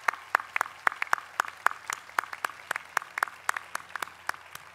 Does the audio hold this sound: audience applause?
yes